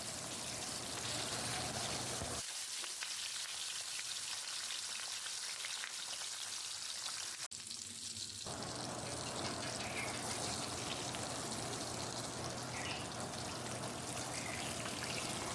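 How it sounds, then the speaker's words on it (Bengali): Bata fish frying in hot mustard oil for a light fish curry: continuous close sizzling hiss, briefly dropping quieter in the middle before returning full, with no talk over it. "এবার মাছগুলো উল্টিয়ে পাল্টিয়ে ভালো করে ভেজে নেব।"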